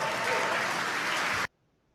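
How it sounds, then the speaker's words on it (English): Audience applause, a dense wash of many hands clapping that fills the first second and a half and then cuts off sharply to near silence. "That's a lot of clapping."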